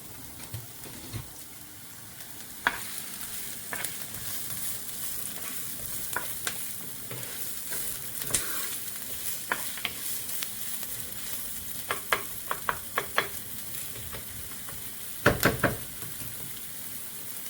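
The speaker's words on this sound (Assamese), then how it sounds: "এইটো মানে পূৰাকৈ ফ্ৰাই কৰিব নালাগে বস্তুবিলাক, জাষ্ট চটে কৰি পেলাই দি দিলেই হ'ল।" Ingredients for tofu noodle soup sauté in a hot pan, a continuous close sizzle and crackle broken by scattered sharp clinks and scrapes of stirring, loudest in a short burst near the end.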